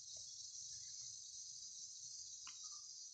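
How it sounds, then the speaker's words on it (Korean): Constant high-pitched buzzing of cicadas in August fills the air, steady and unbroken, with a few faint distant bird chirps underneath. "매미 소리 들리시죠?"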